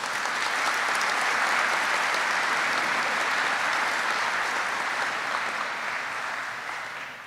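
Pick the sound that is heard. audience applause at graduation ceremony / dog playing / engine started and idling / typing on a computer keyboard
audience applause at graduation ceremony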